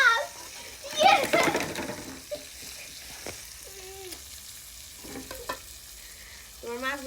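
Fish frying in a pan in a village kitchen, with a burst of sizzling and stirring near the start and softer crackle after it, under children's voices and occasional chatter.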